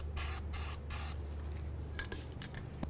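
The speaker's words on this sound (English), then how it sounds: "Now we're going to apply some copper never seize to the threaded area of the inner tie rod end." Copper never-seize hisses from an aerosol can onto the inner tie rod threads of a Dodge Journey steering rack, in three short spray bursts followed by a few faint clicks and handling noises.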